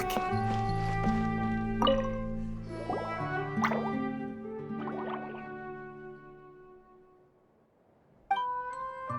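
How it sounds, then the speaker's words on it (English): Water-droplet sounds in the video game event Secret Summer Paradise: a sequence of bright, plinking droplet tones over sustained musical chords. The tones fade toward a near-silent stretch before two more sharp plinks sound close and clear. "it sounds like a water droplet is on the second floor!"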